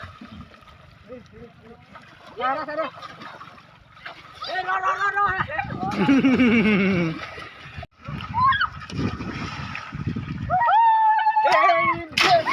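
Water splashes and sloshes in bursts while several people shout and chatter excitedly nearby, voices overlapping.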